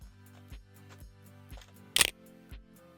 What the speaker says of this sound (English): I'm going to release or push my shutter and just slowly zoom inward